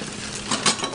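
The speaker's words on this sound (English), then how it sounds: "you want to stir it, so we're going to use the chopstick" A chopstick stirs a pink cocktail, making a brief, close swirl of liquid with light clinks against the glass.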